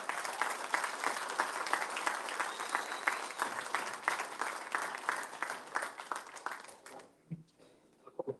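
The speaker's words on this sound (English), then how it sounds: "Please clap it up for David Mick." A debate audience applauds candidate David Mick, with many hands clapping steadily and fairly close before the applause dies away, leaving a few stray sounds.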